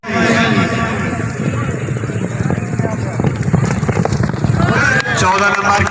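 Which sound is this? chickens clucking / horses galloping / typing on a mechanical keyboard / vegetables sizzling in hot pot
horses galloping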